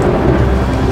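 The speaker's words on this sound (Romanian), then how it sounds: "Și acum e tunetul!" A loud, continuous rumble of thunder during a heavy storm with rain, a dense low roar filling the whole moment with no pause.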